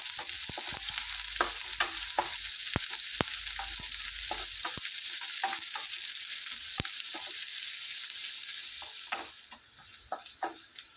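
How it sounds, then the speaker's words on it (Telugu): Two medium onions and four green chillies fry in hot oil for a tangy tamarind-leaf egg curry, giving a steady close sizzle broken by frequent scraping stirs, with the hiss easing slightly near the end. "ఇందులో మీడియం సైజు టూ ఆనియన్స్ ఒక ఫోర్ మిర్చి వేసుకున్నాను ఫ్రెండ్స్ వీటిని చక్కగా ఫ్రై చేసుకుందాం"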